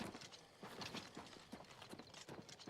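Horse hooves clip-clopping in the video game Oblivion Remastered, a quick irregular patter of soft hoofbeats, faint and steady throughout.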